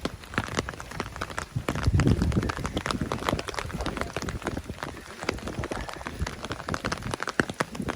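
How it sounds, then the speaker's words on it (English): Rain patters steadily on surfaces outdoors beside a car being washed, a dense irregular crackle of drops, faint and continuous. "It's raining and he's washing his car right now."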